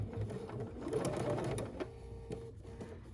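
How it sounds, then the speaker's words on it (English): A sewing machine stitches fabric for vintage swimwear in a rapid, close-up clatter of needle strokes that runs on and then slows and stops. "And then sewing."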